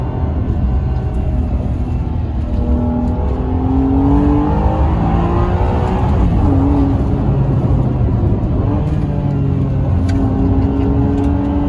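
A Ferrari 612 Scaglietti V12 pulling hard in one gear from inside the cabin, a loud, continuous engine roar rising and falling in pitch as it accelerates and eases off, steady throughout with no talking.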